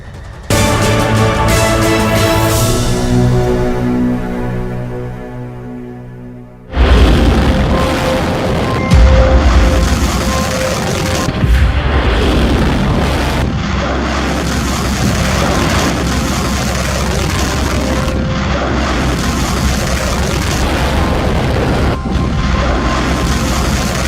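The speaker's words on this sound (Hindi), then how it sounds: "जब ईरान की ये मिसाइल फायर की जाती है तो तस्वीरें ऐसी होती हैं।" An Iranian missile launches: a steady tonal drone gives way to a sudden, very loud rumbling roar with booms that carries on without a break.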